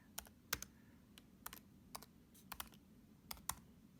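Keys on a computer keyboard click in quick, uneven bursts as a name is typed during Windows 7 setup, close but soft, with short gaps between keystrokes.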